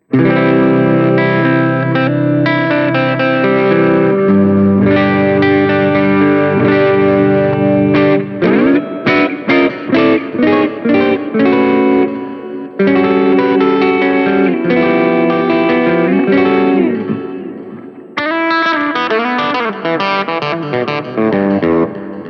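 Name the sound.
electric guitar clean tone through amp modeler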